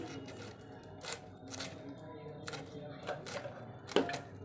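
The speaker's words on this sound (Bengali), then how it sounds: "এদিকে বাঁধাকপির তরকারি করব বাঁধাকপি কাটছি" Cabbage being chopped with a knife for a curry in a home kitchen, giving a series of crisp, irregular cuts close by, with a louder chop near the end.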